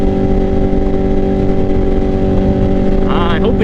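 A steady, loud motorcycle engine drone with heavy wind rush as the bike cruises at about 70 mph, holding constant throughout.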